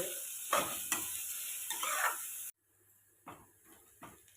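Onions fried in a pan for baingan bharta are stirred in short scraping bursts over a steady sizzle that cuts out abruptly halfway, then returns fainter with a few more stirs.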